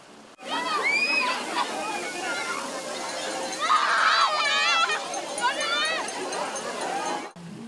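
Public water fountains in the capital splash and slosh steadily on a warm spring weekend while a crowd of people and children shout, squeal and talk throughout, the water a constant rushing bed beneath the voices.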